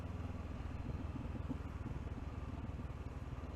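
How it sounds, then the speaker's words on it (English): An old Kawasaki motorcycle, W registration, idles close by with a steady, loud, throbbing engine rumble and faint mechanical clatter throughout, no voices. "What have we got here? Kawasaki? A goddamn Kawasaki?"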